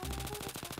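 A super weapon in the game Garry's Mod fires a rapid burst of gunfire, evenly spaced loud shots in quick succession over under a second.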